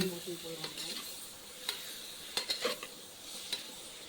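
Chopped Malabar spinach (pasalai keerai) sautéing in a pan, with a soft sizzle under repeated scraping and clinking stirs from a spoon, close by and fairly quiet.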